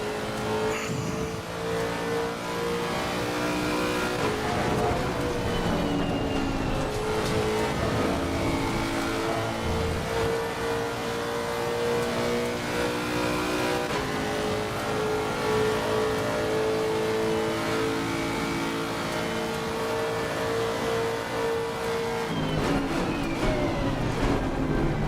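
Race car engine in Assetto Corsa revving hard and accelerating through the gears, a loud sustained whine rising and dropping with shifts, close and continuous with no talk.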